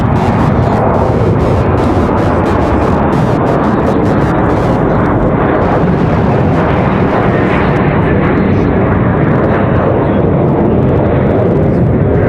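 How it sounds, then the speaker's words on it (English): An Airbus A321 jet departs from Raleigh-Durham International Airport, producing a loud, continuous roar of engine thrust that fills the entire clip. The roar is broad and rumbling, with a shifting hiss as the aircraft climbs out. "We've got an A321 ready for departure. Early rotation."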